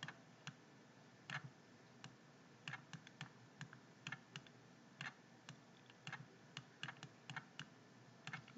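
Typing on a computer keyboard while entering text in a Windows program: light, scattered key clicks in irregular bursts, close but faint, over a quiet background hiss with no talking.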